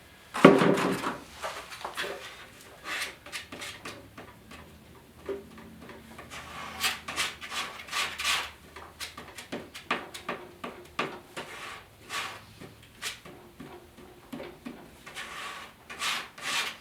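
Scraping and grinding against a cracked plastic fender flare comes in uneven rubbing strokes and short rasping bursts, close up and moderately loud, with no one speaking.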